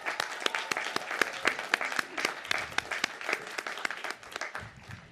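Steady applause from a crowd for graduates at a college commencement ceremony in 2021, dense overlapping clapping that thins out toward the end.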